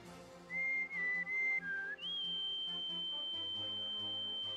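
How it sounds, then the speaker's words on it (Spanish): A character in the video game Suikoden whistles a short melody of shifting notes, then holds one long steady tone over soft background game music. "lo ha escuchado silbar"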